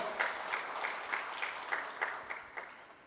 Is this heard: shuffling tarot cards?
no